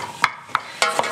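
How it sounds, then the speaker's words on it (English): Onions frying in a pan begin to sizzle softly under a few sharp scraping strokes as they are stirred and mixed with grated ingredients, close and fairly loud, with no talk. "That's sort of starting to sizzle a little bit now."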